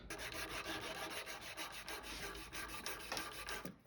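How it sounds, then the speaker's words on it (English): Hand sanding of a small metal part, a steady close rasping rub with regular back-and-forth strokes that runs without pause for a few seconds, no voices. "And I'm just gonna sand this down."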